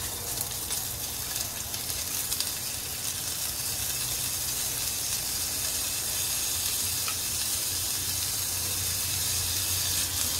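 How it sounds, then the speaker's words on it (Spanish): Food frying and sizzling in a pan during Honduran home cooking, browning and toasting before water is added; a steady, close, continuous hiss and crackle that holds evenly throughout with no talking. "Por lo único que vamos a hacer es sofreírlo a que se dore, se tueste bien"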